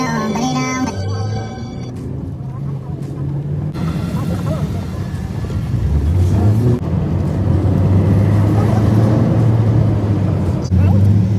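Steady road noise and engine drone of a car ride to the pyramids in Egypt, loud and continuous, with a low hum that rises in pitch partway through, and voices talking over it.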